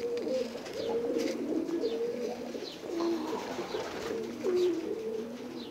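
High-flying pigeons coo repeatedly in soft, rolling phrases, several birds overlapping at close range in rooftop lofts in Tabuk, Saudi Arabia, with faint outdoor ambience.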